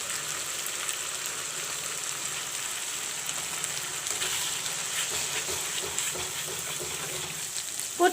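Masala frying in a pan with black mustard seeds and red chili paste for mutton vindaloo, a soft continuous sizzle with occasional faint stirring scrapes, fairly quiet and without speech.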